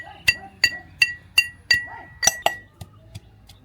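Ginger and garlic are pounded in a mortar. About eight sharp, ringing strikes come in a steady rhythm and then fade to lighter knocks.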